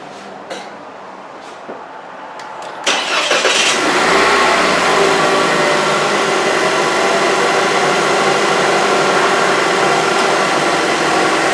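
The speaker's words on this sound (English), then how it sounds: "we're going to start it up and let it run for a minute just to get the oil to circulate" A Cadillac ATS 2.0 L four-cylinder engine cranks briefly and catches after a few quiet clicks, then settles into a loud, steady idle heard up close and uninterrupted.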